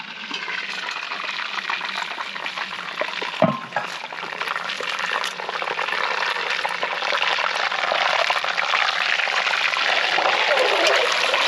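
Veggie soup bubbles and simmers in a pot on a camp stove beside the Goulburn River, a steady close boiling hiss with a single knock partway through.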